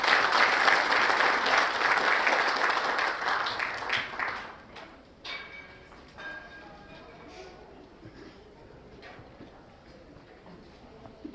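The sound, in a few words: audience applause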